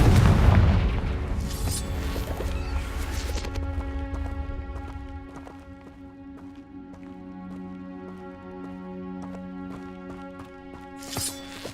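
A Confringo spell explosion in Hogwarts Legacy: a loud, close boom with a rumbling blast that fades over a few seconds into sustained musical tones, with a brief sharp burst near the end.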